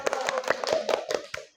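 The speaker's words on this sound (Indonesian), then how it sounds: "Kasih tepuk tangan buat semuanya" Hands clapping at a teachers' group session in a classroom, a loose, uneven patter of applause that carries on steadily for about a second and a half before stopping.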